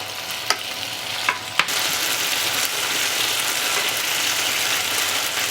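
Duck strips sear in a small frying pan over high heat, giving a steady, close, loud sizzle with a few sharp clicks and scrapes of stirring near the start.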